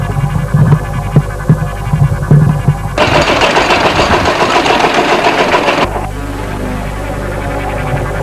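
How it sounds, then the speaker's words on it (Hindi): A tractor engine runs while fields are being harvested, giving a steady mid-pitched throb. It starts out loud and rhythmic, swells into a dense, noisy roar partway through, then settles back into a lower, steady drone. "ट्रैक्टर की आवाज, खेत काट रहे हैं"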